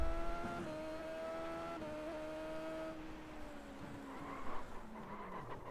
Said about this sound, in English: Locked the brakes up.